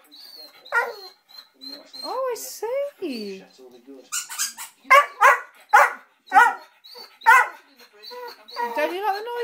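A Soft Coated Wheaten Terrier barks in short bursts at a squeaky toy whose high squeaks sound between the barks, close by, while a person talks to the dog throughout.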